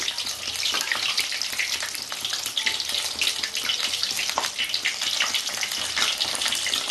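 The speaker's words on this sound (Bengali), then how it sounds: "মচমচে করে ভাজবো" Bengali pumpkin flower fritters deep frying in hot oil, a dense, steady crackling sizzle that holds evenly throughout.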